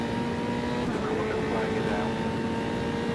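A Formula 3 race car engine in a racing video game at the Red Bull Ring, a steady loud drone with a sustained tonal whine that rises in pitch partway through, constant throughout.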